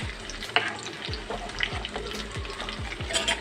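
Chopped onions frying in a pan for egg rasam, stirred until light brown: a continuous close sizzle with regular scraping stirring strokes about every half second, no talk.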